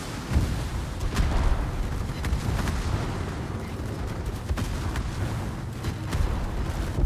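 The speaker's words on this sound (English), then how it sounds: "And my secondaries keep firing, and will they kill the Akazuki?" Battleship secondary guns fire repeatedly in a naval combat video game, a dense run of booming reports over a constant low rumble of battle noise, loud and sustained with no talking.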